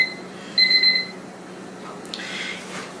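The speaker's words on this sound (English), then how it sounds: "my alarm's going off" A short electronic alarm beeps briefly, fairly loud and close, then stops, leaving quiet room tone and a soft rustle.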